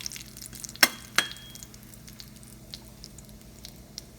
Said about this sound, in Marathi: जिरं, जिरं जरा काळसर होऊ द्यावं।